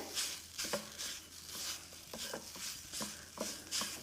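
Potato paratha filling cooking on a high flame, a faint, soft sizzle with repeated scraping and stirring strokes in a loose rhythm, quiet and close, with no voices.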